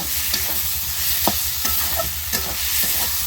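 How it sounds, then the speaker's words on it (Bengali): Jackfruit being stir-fried with spice masala in a pan for a jackfruit and prawn curry, with a steady sizzle under scattered scraping strokes of the spatula, close and moderately loud, no talking. "ইচোরটা দিয়ে ভালো করে মশলাটা কষিয়ে নেবে"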